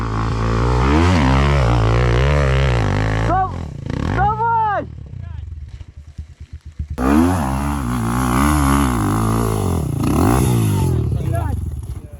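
Chinese 300cc enduro motorcycle climbing a hill: loud engine revving with rising and falling pitch, a brief drop-off in the middle, then hard revving again nearby. Voices can be heard underneath.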